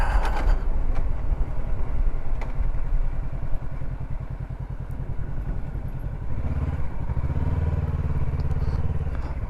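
A motorcycle rides into a lakeside campsite at Seminole Lake, Florida, its engine a steady, close, throbbing rumble throughout, with rattles and a brief rise and fall in revs.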